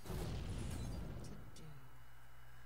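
In the Hearthstone video game, an Arcane Explosion spell goes off as a loud, dense, rumbling blast that decays into a sustained low hum with a couple of brief bright sparkles.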